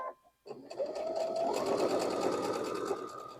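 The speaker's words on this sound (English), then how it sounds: "let's go sew it down" A sewing machine runs a seam on a small point of a Card Trick quilt block, starting from a leader fabric, with close, loud, continuous motor whir and needle chatter after a brief click and short silence.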